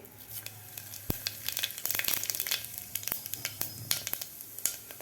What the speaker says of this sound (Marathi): तेल आपलं गरम झालेलं आहे यामध्ये घालायचे आपल्याला जिरे